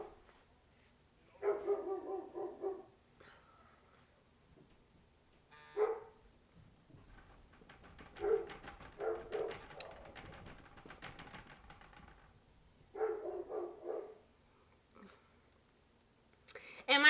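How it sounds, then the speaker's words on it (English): Dogs bark in a home in loud clustered bursts with quiet gaps between them, a few short yaps trailing off and a low whimper in between; no one speaks. "I will try to get through as much as I can with the dogs barking"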